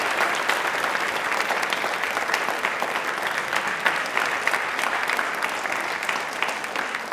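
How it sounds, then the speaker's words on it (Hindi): Sustained applause from a studio audience on a Rajasthani television quiz show, a steady even wash of clapping lasting several seconds with no voices over it. "सबसे पहले एक बार भारत के लिए तालियां बजाइए"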